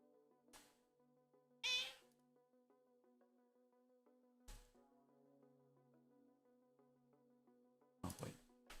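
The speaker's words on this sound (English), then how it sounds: "She is a psycho kitty." A house cat meows in short, sharp bursts, three or four separate cries with quiet gaps, close and fairly soft over a faint steady tonal hum in the room.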